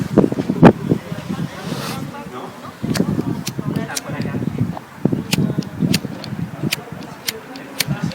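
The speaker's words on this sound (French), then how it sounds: "Bon courage avec le vent." Outdoor wind buffeting a microphone, a steady low roar with gusty swells throughout, with a voice speaking intermittently over it and occasional faint clicks.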